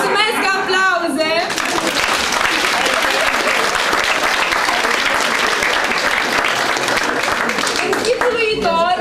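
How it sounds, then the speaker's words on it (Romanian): Audience applause during a Romanian storytelling comedy show, a loud sustained crowd clapping across several seconds, with voices speaking just before and after it. "Mulțumesc, aplauze!"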